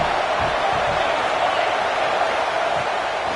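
A college football stadium crowd at a Clemson versus Georgia Tech game roars in a steady, dense wash of noise that never lets up, loud and distant-sounding.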